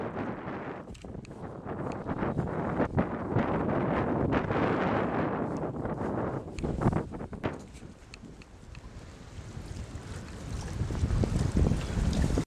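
A 1994 Evinrude outboard engine runs on a boat in a harbour, a steady close mechanical rumble mixed with heavy wind buffeting and water noise, with bursts of gusty roar throughout.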